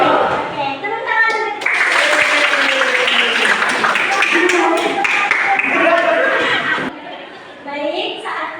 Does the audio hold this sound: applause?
yes